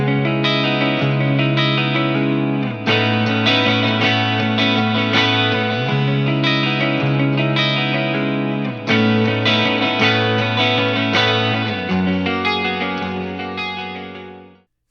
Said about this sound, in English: So this amplifier can handle clean tones just fine.